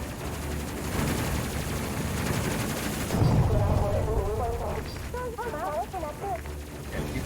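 A ship in the Space Crew video game fires rapid bursts of gunfire, dense and fairly loud, giving way to a rumbling blast and warbling electronic tones. A voice talks intermittently over the action.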